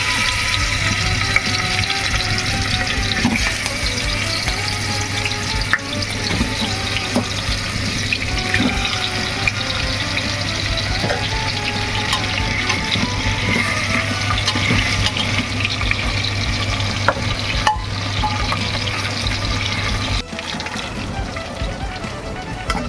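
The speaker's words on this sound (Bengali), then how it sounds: "এবার মাছগুলো আমি এক এক করে ছেড়ে ভেজে নেবো।" Pieces of katla fish fry in hot oil, a continuous close hiss and crackle with scattered pops over a low steady hum, easing off near the end.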